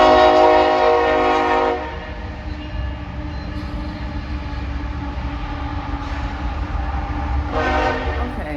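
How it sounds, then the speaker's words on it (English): A train rumbles past outside on a warm night, its horn blaring loudly at the start and sounding again near the end over a steady rolling roar, with no voices. "Train."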